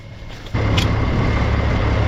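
A truck rumbles past close by, its low engine drone jumping in suddenly and holding loud and steady for a couple of seconds, with no voices.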